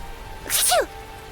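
One short, sharp sneeze from a Seraphim character in a fantasy video game, close and clear, a quick burst of under a second over a quiet, steady background hum.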